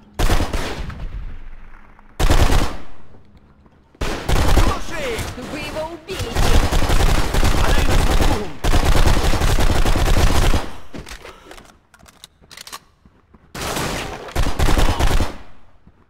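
Gunfire from the PC shooter BlackSite: Area 51, with loud bursts of automatic fire and single shots in several separate volleys, broken up by short pauses, and voices shouting over the shooting.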